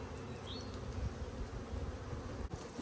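Honey bees from a newly installed package buzz in a dense, continuous drone close by as they make their way out through a sugar tunnel.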